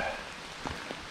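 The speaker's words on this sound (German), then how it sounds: "Nun hat mich der Regen doch eingeholt." Rain falling during a hike, a steady soft hiss of drops on surfaces with a couple of slightly louder individual drips, close and continuous.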